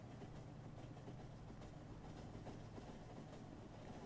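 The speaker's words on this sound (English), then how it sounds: "Hey, that was an empty train." A train rolls past in the Factorio factory-building game as a faint, continuous low rumble with soft rhythmic clatter and no talking over it.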